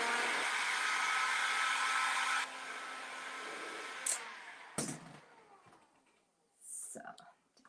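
A heat gun blows a steady, loud whooshing roar while it warms a WoodUbend moulding on a wall panel. The airflow drops to a lower level midway, with a few clicks and handling knocks, then it stops near the end.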